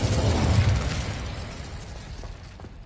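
Incendio fire spell cast in Hogwarts Legacy, a loud whooshing burst of flame that peaks early and then fades into a crackling tail.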